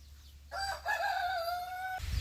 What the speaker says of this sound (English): This is Miss Sparrow, She's the oldest chicken here.